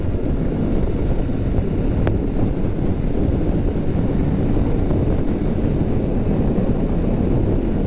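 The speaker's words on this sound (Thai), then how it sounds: "มันโตลมอ่ะผมไม่ชินขับรถตรงเนี้ย" Steady, loud wind roar buffets the microphone while riding a Royal Enfield Shotgun 650 motorcycle, a dense low rumble running unbroken throughout with one brief sharp click near the start.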